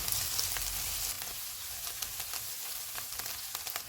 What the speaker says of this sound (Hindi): चॉप की हुई 2 सब्ज़ मिर्चें। इनको 1 से 2 मिनट तक भूनेंगे।